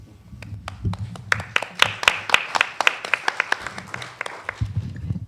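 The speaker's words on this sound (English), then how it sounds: "I'm applauding because that answer was so strong" Scattered claps from a small audience after an answer at a panel discussion on policing and prisons, a sparse, uneven run of sharp hand claps over low room murmur and a few voices.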